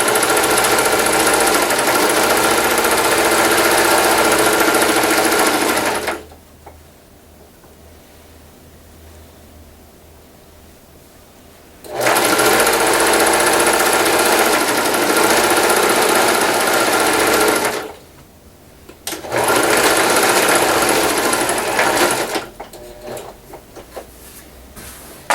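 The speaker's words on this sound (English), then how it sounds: "Make sure you're only sewing to one side of the robe." A sewing machine stitches along one side of a robe in two long loud runs of dense, steady mechanical whirring, separated by pauses, followed by a final shorter burst and scattered small handling noises.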